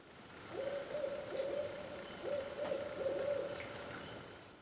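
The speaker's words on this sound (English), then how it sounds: "you hear the owl in the background" An owl hoots steadily in the background, a series of clear, low, drawn-out calls in two groups, with no voices, heard outdoors where a Briggs 5HP mini bike engine is being worked on.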